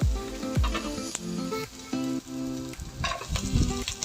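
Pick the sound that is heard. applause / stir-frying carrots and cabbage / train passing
stir-frying carrots and cabbage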